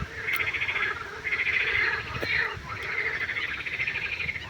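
A chorus of frogs croaks in rhythmic trilling bursts, rising and falling in waves across an open, outdoor setting.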